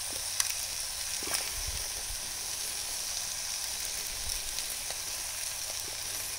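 Red bell peppers stir-fry in an aluminum tray over a charcoal grill, giving a steady, moderate sizzle with a few faint clicks and low thumps, continuous and nearby with no speech.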